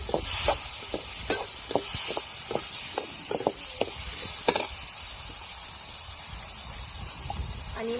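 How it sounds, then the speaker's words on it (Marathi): Moth beans sautéed in a pan for a black-masala matki curry, a steady hiss of frying broken by a run of sharp, rhythmic spoon scrapes that stop partway, leaving the sizzle alone. "मटकी आपल्याला एकदम व्यवस्थित परतून घ्यायची आहे"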